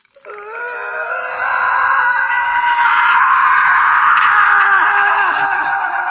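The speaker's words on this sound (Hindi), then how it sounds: "फोन के स्पीकर से एक बहुत तेज चीख निकलती है।" A very loud, sustained scream blares from a phone speaker in a horror animation, a shrill, wavering cry that rises within the first second and holds at full strength, close and unbroken, with no talk over it.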